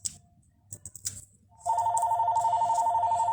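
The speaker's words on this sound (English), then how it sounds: "And I'm so sorry for the phone ringing." A house telephone rings with a loud, steady electronic trill that pulses evenly, beginning partway through after a few quiet taps and handling noises from a card-making craft session.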